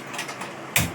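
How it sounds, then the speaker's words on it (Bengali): A kitchen gas stove is switched on while cooking mutton biryani, giving a sudden, close burst of hissing ignition noise near the end after a quieter stretch of faint background clatter. "গ্যাসটা অন করে দিলাম।"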